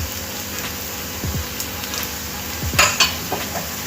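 Taro (chamadumpa) pieces sizzle steadily in a pan, with a spoon or spatula stirring and clinking against the metal a few times.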